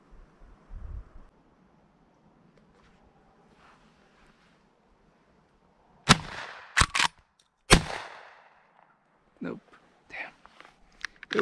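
Shotgun blasts during a South Texas dove hunt, two sharp loud reports close together followed by another, with wind and faint talk in an otherwise quiet field.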